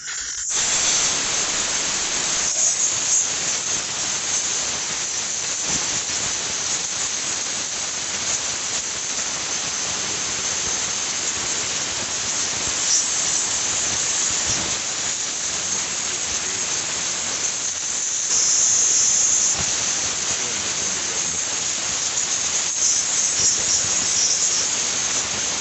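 Compressed air hisses steadily and loudly for the whole stretch as it blows dust out of a farm tractor's radiator, a continuous rushing spray with small surges and no pauses.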